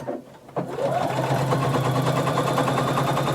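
A sewing machine stitches together fabric pieces of a maxi dress, running steadily and loudly after a brief quiet start, its even mechanical whir continuing alone without pause.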